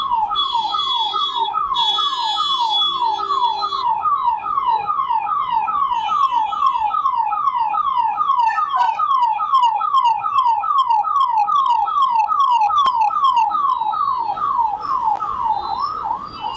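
An ambulance stuck in traffic sounds a loud, close, rapidly warbling siren in a fast repeating yelp that continues unbroken, with faint traffic noise beneath.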